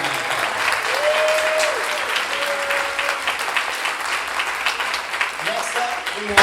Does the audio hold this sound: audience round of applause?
yes